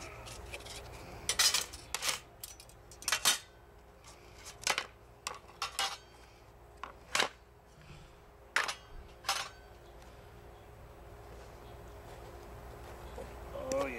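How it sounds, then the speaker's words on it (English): Cobbler batter is mixed in a green bowl from a Stanley camp prep and cook set: sharp, irregular clicks and taps of a utensil against the bowl, close and fairly crisp, over a quiet background. "let's mix some up in our bowl"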